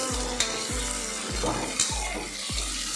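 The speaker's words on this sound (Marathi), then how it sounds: "टॉमॅटो सुद्धा परतून घेऊ" Steady sizzling in a hot pan, punctuated by regular low knocks of stirring roughly every second; no voices.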